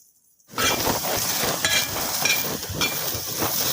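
Onion roasting dry on a hot griddle (tava) for a Maharashtrian black masala paste, a steady crackling sizzle that starts abruptly after a brief silence and continues evenly, close and fairly loud with no talking.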